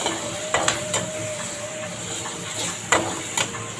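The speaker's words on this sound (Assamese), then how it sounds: "সকলোখিনি ভালকৈ ভাজি ল'ম।" Okra fries with ginger garlic paste in a pan under a steady hiss, broken by a few sharp spatula clinks and scrapes against the pan.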